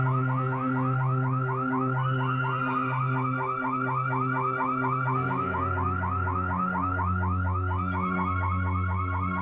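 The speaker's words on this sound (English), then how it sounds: "It's just a car alarm." Car alarm blaring continuously, a rapid warbling siren that cycles through shifting tones, loud and steady with no voices over it.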